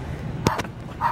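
A dog barks from a children's sound book, a short electronic bark or two near the middle followed by a brief tone, faint and close against a steady low hum.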